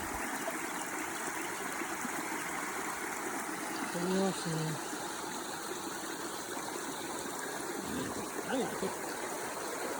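A creek in the Willard Creek drainage watershed rushes steadily throughout, a continuous broadband flow of water close by, with a short spoken remark laid over it partway through.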